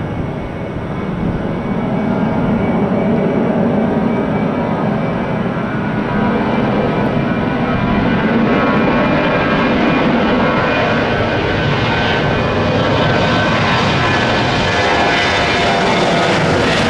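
A cargo-type aircraft taking off from runway 28 at Tampa, its engines roaring loud and continuous with a slowly rising whine over the full stretch.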